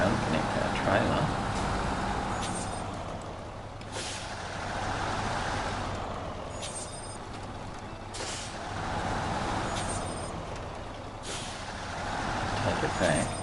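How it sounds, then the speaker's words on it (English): A heavy truck in the snowy off-road game SnowRunner backs up while hauling a trailer, its engine droning steadily with recurring bursts of air-brake hiss across the whole stretch, alongside faint talk. "now we need to just reverse again"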